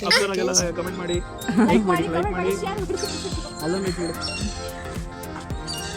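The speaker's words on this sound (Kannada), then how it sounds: "ನೋಡಿ ಅದು ಪಕ್ಷಿ ಕೂಗ್ತಾ ಇದೆ." Sharp, repeated squawking bird calls over a busy, noisy background at Karanji Lake, Mysore, with people talking nearby.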